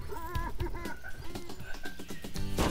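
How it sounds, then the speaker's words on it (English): Chicken clucking in Spyro Reignited Trilogy, a run of short, bright clucks over busy game music and effects, ending in a burst of noisy sound. "Oh. Poor chicken."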